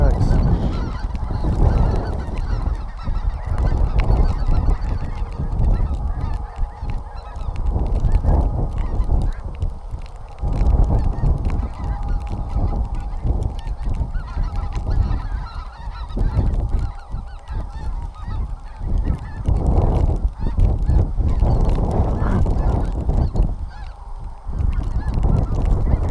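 A large flock of snow geese and speckle-bellied geese honks continuously, a dense, loud chorus of overlapping calls that rises and falls close by for the whole stretch.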